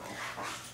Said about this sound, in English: you can hear my puppies in the background probably